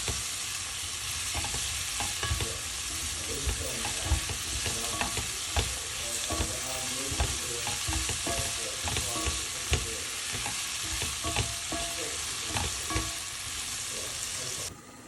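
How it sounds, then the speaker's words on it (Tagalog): Garlic, onion and tomato sauté in a hot pan, a steady broadband sizzle running throughout with frequent clinks and scrapes of a spatula stirring the mix. "ginisa ko ang bawang sibuyas at kamatis"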